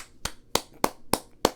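Five sharp hand claps ring out at an even, moderately quick pace, each a crisp close slap standing alone against quiet.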